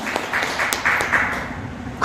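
Audience applause glorifying God at a Korean-Chinese church gathering: a short burst of scattered clapping from a crowd, moderately loud and steady throughout, with no speech.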